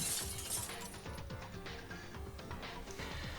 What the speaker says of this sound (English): suddenly hearing the sound of glass breaking inside the switchium